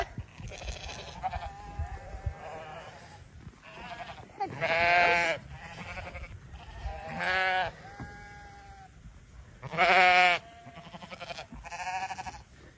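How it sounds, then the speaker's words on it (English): Yearling shearlings, last year's lambs, bleat loudly at feeding time in an upland field on a Coniston fell farm, several long wavering calls rising over a steady background bustle of the flock, some near and some farther off. "feeding the shearlings. So these are last year's lambs."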